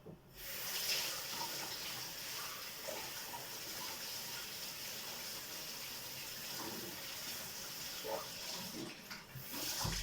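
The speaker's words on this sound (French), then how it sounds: "après tu le passes sous l'eau les gars pour que ça pique un peu moins" Tap water runs steadily over chopped onion being rinsed in a sink, a constant close splashing hiss that stays level throughout, with no talking.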